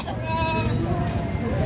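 Goats bleating at a crowded livestock market in Padre Garcia, Batangas, a couple of wavering nearby calls over a dense background of animal noise and voices.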